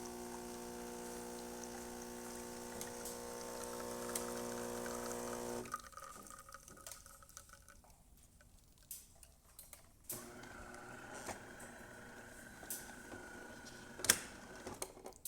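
A DeLonghi Magnifica ESAM espresso machine pulling a shot after servicing: a steady pump hum with tonal whine for several seconds, then it cuts to quieter gurgling, drips and small clicks, soft and close.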